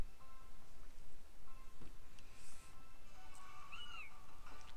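A short, high, cat-like mewing cry of a Skitty video game creature sounds a couple of times over a soft background hiss.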